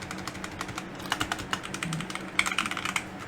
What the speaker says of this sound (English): I'm going to depress every key for a second.